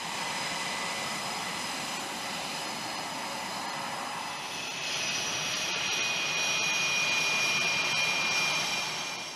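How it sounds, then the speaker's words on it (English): A-10 Warthog jet engines roar steadily nearby during hot pit refueling, a loud constant rumble with a high whine that grows stronger partway through. "Refueling a plane while the engines are still running is known as hot pit refueling"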